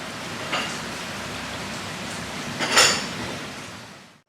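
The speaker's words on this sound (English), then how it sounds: "this rain may be short-lived, but that's okay" Steady summer rain falling outside a weatherdeck, a soft continuous patter with a couple of brief louder splashes or knocks, fading out at the end.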